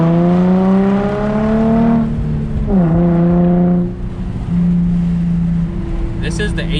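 A Nissan 350Z HR exhaust drones loud and close, its pitch rising and falling through several revs, with a brief higher whine near the end.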